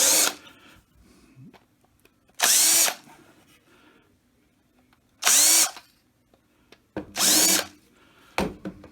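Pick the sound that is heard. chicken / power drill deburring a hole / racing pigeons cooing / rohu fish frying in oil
power drill deburring a hole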